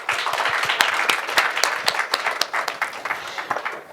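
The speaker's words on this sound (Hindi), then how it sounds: "एक बार जोरदार तालियां हो जाएं" Loud applause from a studio audience at the close of an interview with actress Isha Gupta, a dense, steady burst of many hands clapping with sharp individual claps cutting through, close and sustained.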